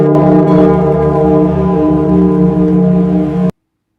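A loud bell for the market open rings steadily for about three and a half seconds, a sustained metallic tone that cuts off abruptly into silence.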